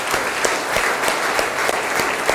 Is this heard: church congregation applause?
yes